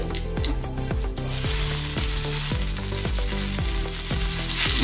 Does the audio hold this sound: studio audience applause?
no